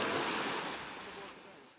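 Sea surf at Kleopatra beach in Alanya on a hot day: a broad, steady wash of breaking waves, close and fairly loud, fading slightly toward the end.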